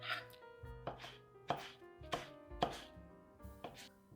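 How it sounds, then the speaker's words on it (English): A knife chops through Japanese eggplant on a board in a kitchen, about seven or eight crisp, separate strokes coming at an uneven steady pace, close and fairly loud, with no voices. "as Chef Jay is slicing and dicing, well, not dicing, slicing the eggplant"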